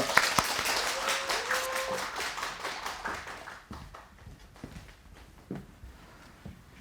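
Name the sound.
applause at a hospital conference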